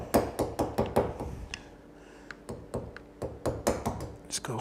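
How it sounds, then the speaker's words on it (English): A 1/2 inch chisel tapped into a knife line in wood, giving a quick series of sharp mallet taps in close bursts with a short pause between them. "I'm going to go to a 1/2 inch chisel. Feel it right in the knife line."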